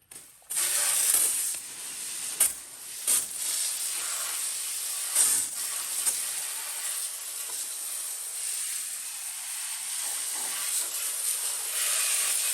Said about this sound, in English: I'm going to spray all these leaves off the drains right here.